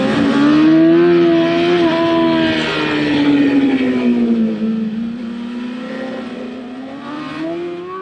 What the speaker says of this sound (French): j'entendais un moteur comme si j'avais quelqu'un sur la nuque